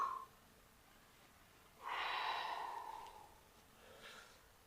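One deep, close exhale with a slightly voiced, sighing edge, then a fainter second breath, while holding a standing hamstring stretch in a quiet room.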